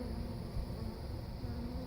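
Bees buzz around a honey feeder in a continuous, droning hum, faint but steady throughout, with no voices.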